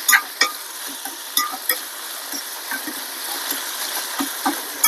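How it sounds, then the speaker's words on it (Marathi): Onion, tomato and capsicum sizzle and fry in a pan, with steady crackling hiss and repeated scraping stirs of a utensil across the metal, close up and without talk. "यानंतर आपण यात कांदा टाकून घेणार आहोत आणि टोमॅटो आणि थोडीशी ढोबळी मिरची। आता आपण हे फ्राय करून घेऊया सगळं।"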